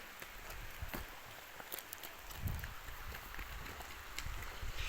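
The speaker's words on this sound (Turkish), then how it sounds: "Her yere yağmur yağıyor baksana." Rain falling outdoors, a steady broadband patter with scattered sharper drop hits, moderately quiet and continuous without speech.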